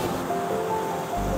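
Steady broadband rush of falling water at Raggedy Ass Falls, a stepped series of small cascades in New Brunswick, heard as a soft, continuous wash with no voices.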